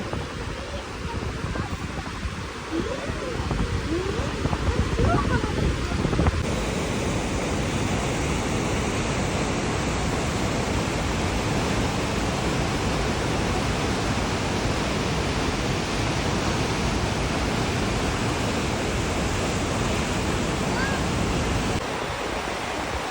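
Roaring rapids of a wild Norwegian river during rafting: a loud, continuous broadband rush of churning white water, close and unbroken throughout.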